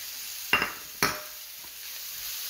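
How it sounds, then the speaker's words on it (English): Vegetables stir-fried in a pan give two sharp sizzling bursts about half a second apart as they are tossed, each fading quickly, then a low quiet hiss continues close by. "stir fry."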